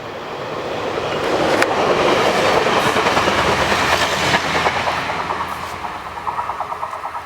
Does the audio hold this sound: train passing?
yes